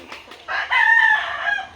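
A rooster crows loudly and close by, one sustained, strained call lasting about a second.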